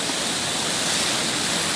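Steady broadband rush of water running during night-time garden watering, constant and fairly loud throughout with no voices.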